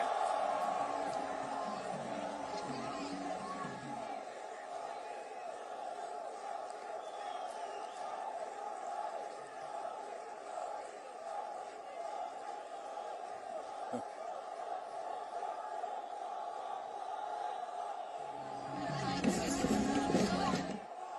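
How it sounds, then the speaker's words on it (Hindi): At a political rally in Assam addressed by PM Modi, a large crowd cheers and applauds beneath someone speaking through a public address system, and the crowd noise swells loudly near the end. "आज तालियां गूंज रही हैं, जयकारा हो रहा है।"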